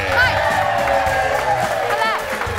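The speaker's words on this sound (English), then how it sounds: "Clap one more time for Kendall Mark, everybody." A studio audience on a television talk show claps and cheers in a steady, loud, continuous burst, with a voice rising over the noise.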